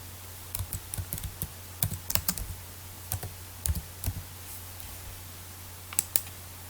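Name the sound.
typing on computer keyboard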